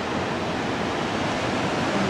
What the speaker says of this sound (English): Watching the waves.